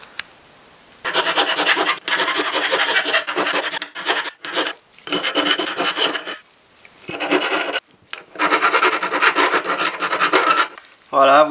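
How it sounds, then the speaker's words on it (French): Close hand file rasping metal on a Puch moped engine part, in repeated long strokes of harsh scraping separated by short pauses, loud and alone with no voices. "je vais mettre un petit coup de lime, on va la rénover"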